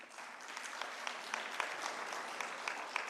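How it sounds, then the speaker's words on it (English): A conference audience at an international summit on emergency and trauma care applauds the dignitaries on the dais, a steady wash of many hands clapping at moderate level throughout, with scattered sharper claps standing out. "I would like to welcome all the dignitaries on the dais with a huge round of applause"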